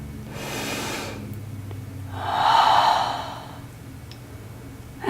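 A single slow breath taken while holding a yoga pose: a long soft exhale up close, followed by a stronger, louder airy breath in the middle, and then quiet.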